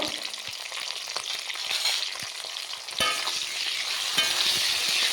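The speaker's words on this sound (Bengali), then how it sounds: "ভালো করে ভেজে নেব" Broad beans and shrimp fry with a little salt and turmeric, giving a loud continuous sizzle that swells partway through, with occasional utensil clicks and stirring and no talking.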